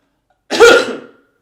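A single short, harsh cough bursts out after a moment of silence and fades quickly.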